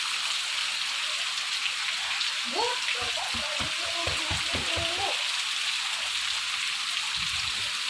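Heavy rain pours down in a steady, dense hiss throughout. Someone talks briefly in the middle over the continuous downpour.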